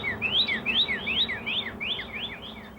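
Wild birds at a feeder in winter, a rapid run of bright chirps and tweets repeating close by over a faint steady background.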